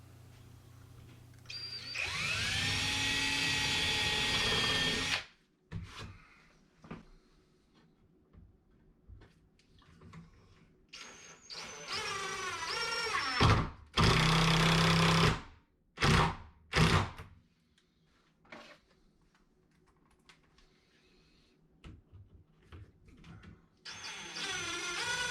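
Power drill pre-drilling pilot holes into wood while a door is rehung: several loud whirring bursts of a few seconds each, separated by quieter pauses with light handling thuds.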